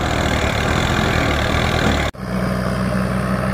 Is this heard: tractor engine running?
yes